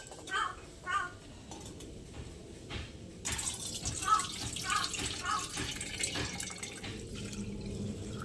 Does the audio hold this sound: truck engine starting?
no